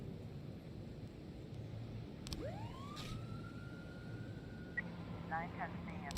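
Police car siren in the video game This is the Police, a rising electronic wail that sweeps up and then holds a steady tone, with a brief higher chirping burst near the end, all heard over a low background hum.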